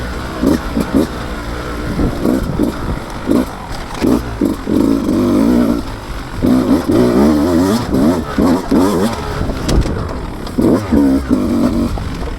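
A 2024 Beta 200 RR Race Edition two-stroke dirt bike is ridden in third gear, its engine loud and close, revving up and down in repeated surges with a raspy, buzzing whine.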